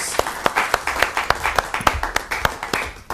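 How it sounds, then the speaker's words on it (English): An audience claps for a volunteer joining on stage, a fairly dense round of applause with distinct sharp claps standing out, moderately loud and steady throughout. "Give Emily a round of applause"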